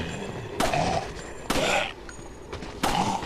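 Gunfire in Dead Rising: Chop Till You Drop, with three loud shots or short bursts spaced roughly a second apart over a steady game background.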